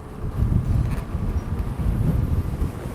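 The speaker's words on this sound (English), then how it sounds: "Boy, it's windy." Strong wind gusts across a microphone outdoors at a park, a steady low rumbling roar that swells and ebbs, with no voices.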